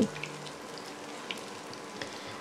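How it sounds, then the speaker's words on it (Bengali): Fish egg fritters fry in hot oil with a steady, soft sizzle and a few faint pops, close by and alone with no talk. "এক পিঠ ভাজা হয়ে গেলে আমি বড়াগুলো অপর পিঠ ভালো করে ভেজে নিচ্ছি"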